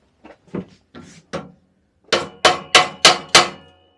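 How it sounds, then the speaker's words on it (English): A hammer taps out the pedal shaft trotter pin of a 1974 Piaggio Ciao moped being stripped down: four lighter knocks, then five loud, evenly spaced metallic blows, close up. "Let's get a hammer."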